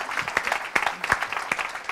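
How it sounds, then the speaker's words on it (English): A panel-talk audience applauds the panelists with a modest round of distinct, scattered claps rather than a dense roar. "I want to give our panelists a round of applause"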